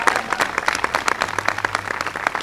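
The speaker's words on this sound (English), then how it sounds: "Another round of applause to Ruben Diaz." A rally crowd applauds at a political event launching a bus tour for a red flag gun protection bill: brisk, uneven clapping from many hands at moderate distance, continuous across the moment with no speech over it.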